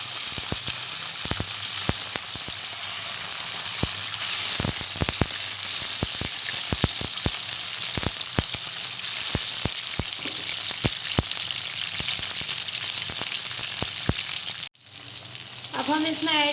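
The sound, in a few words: chopped tomatoes and green chilies frying in garlic oil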